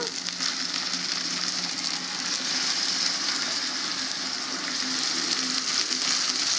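Chicken pieces frying in hot oil with a ginger-coriander paste for an Andhra-style tamarind-leaf chicken curry, giving a steady, loud, close sizzle that holds evenly throughout with no voices.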